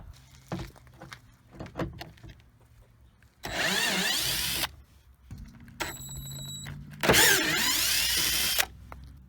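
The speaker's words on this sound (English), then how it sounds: "you can also use a drill too, which is probably what I'll do" A power drill whirs in two loud bursts while removing bolts from a car, separated by quieter clicks and handling noises.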